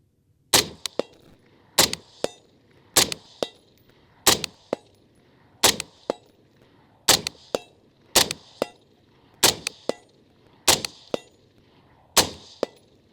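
Suppressed rifle shots fired through a Griffin Armament PSR 7 suppressor strike steel targets, about ten sharp cracks each followed by a bright metallic ring, fired at an even quick pace with quiet between.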